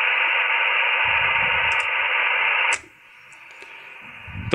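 A radio receiver emits a loud, steady broadband hiss from a noise bridge used to set an antenna coupler, running evenly and then abruptly dropping to a much quieter background with a few faint clicks, with no voices.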